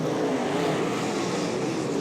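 Super Sedan race car engines roaring steadily at Archerfield Speedway during an A-Main event, a loud continuous drone of speedway cars with no pauses and no voices over it.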